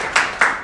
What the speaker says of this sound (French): je voudrais qu'on puisse l'applaudir d'abord pour le témoignage